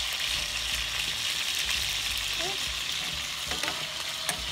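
Pinakbet with squash sizzling steadily in a pan while being stirred, a continuous close frying hiss with occasional scrapes of the utensil and no talking.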